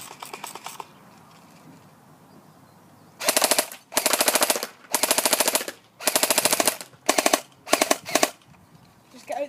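Airsoft SRC G36C rifle firing loud full-auto bursts, six or so rapid rattling strings separated by short pauses, with a few quick shots at the start and no talking.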